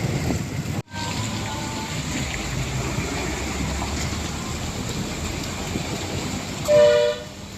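A train passes the Vadanamkurissi railway gate, a continuous rolling rumble with a brief dropout early on and a short, loud horn blast near the end.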